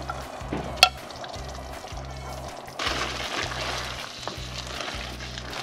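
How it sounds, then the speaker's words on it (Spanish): Meat sizzles and fries in a pan of seasoned chilorio sauce, a steady crackling hiss with a sharp clatter as it goes in and a brief surge partway through; close and moderately loud, no voices. "Una vez bien sazonado, añadimos la carne."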